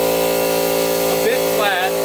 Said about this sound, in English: I've got to pump up the front tire.